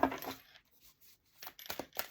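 Oracle cards riffled and shuffled by hand, a soft papery flutter in short bursts, quiet and close with brief pauses between shuffles.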